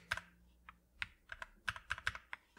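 Keys clack on a NuPhy Halo 96 wireless mechanical keyboard in a quiet room: a short run of crisp, close clicks, some single and some in quick pairs, irregularly spaced, with no one talking.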